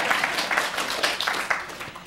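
A lecture audience gives a short burst of applause, dense scattered clapping that carries steadily for about two seconds at moderate volume.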